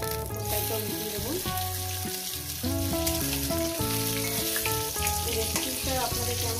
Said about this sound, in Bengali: বেগুনগুলো আমি ভেজে নেব, এক এক করে ভেজে তুলে নেব।